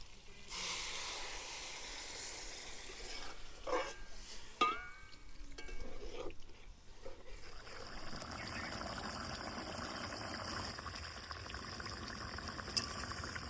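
Water poured into a pan of whole garlic cloves cooked down with masala, a pouring splash followed by steady bubbling and simmering that continues at moderate level, with a brief scrape or clatter partway through.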